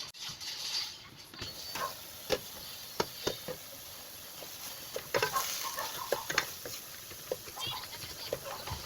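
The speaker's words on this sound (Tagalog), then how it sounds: "antayin nyo siya magmantika or sizzling ba" Ground pork giniling sizzling in a pan while being stirred and broken up, with scattered scraping clicks of a spatula over a steady frying hiss, close and moderately loud.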